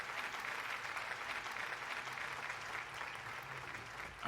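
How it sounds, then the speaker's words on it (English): Applause from a small group during a podcast recording, faint, dense, steady clapping that carries on evenly throughout, heard from a distance without talk. "We'll see if that clapping came into the audio recording"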